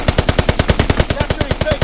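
Rapid bursts of aircraft gunfire from a fighter plane's strafing run in the World War II shooter Call of Duty: WWII, a loud, evenly spaced rattle of shots continuing throughout.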